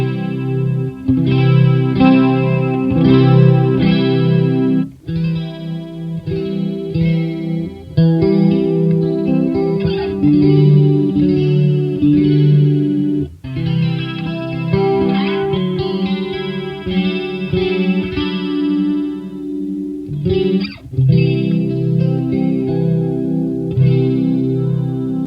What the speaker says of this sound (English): When you split these pickups, you get a high-end sound that sounds like this.